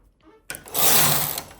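Domestic knitting machine carriage swept across the needle bed to knit rows for a laddered eyelet pattern: a loud, sustained mechanical whirring rasp that starts abruptly after a quiet moment and runs steadily close up.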